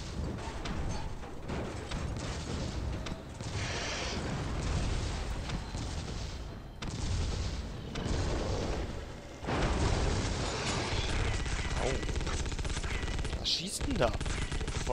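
Continuous bursts of rapid gunfire and explosions from the video game The Suffering: Ties That Bind, loud and dense throughout with brief pauses, a voice occasionally audible beneath the action.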